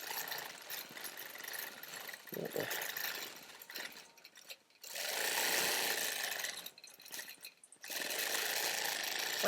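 A sewing machine runs free-motion loop quilting on a churn dash quilt block, with long steady whirring passes broken by brief stops. The sound is close and fairly loud, and no one speaks.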